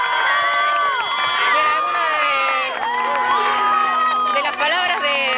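Neighbours at a street protest outside a house in Pilar cheer, whoop and clap together, a dense, loud crowd roar with many overlapping shouted voices carrying on steadily throughout.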